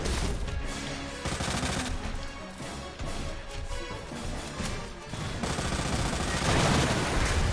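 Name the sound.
gunfire at a monster, from video game Resident Evil 2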